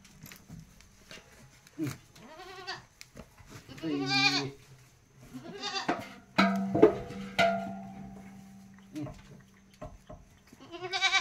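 Goats on a farm, including large billy goats, bleat several times at irregular intervals, some loud and close and others softer, with brief talking between the calls.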